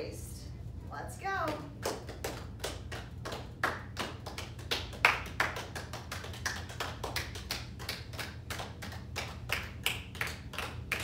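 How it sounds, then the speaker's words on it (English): Children clap their hands in a regular beat during a movement song, sharp claps repeating about every half second, with a voice and soft background music running under them. "we're going to clap our hands and bend at the waist"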